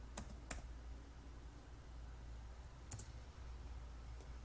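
Quiet typing on a computer keyboard, a few sparse key clicks scattered over a low steady hum, with long pauses between keystrokes.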